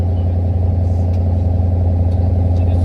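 A 1986 Nissan President's V8 idles steadily with a deep, even rumble, close and alone, with a mild exhaust note and no voices.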